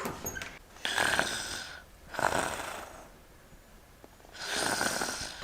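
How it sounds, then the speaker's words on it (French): A sleeping woman snores in a few long, rasping breaths spaced about two seconds apart, close and fairly quiet in an otherwise still room. "Oh, elle ronfle, elle est en train de dormir."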